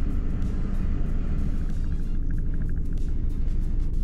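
Interior of a Renault Mégane pulling slowly out of a parking space, with a steady loud low engine rumble and drone throughout and no talk.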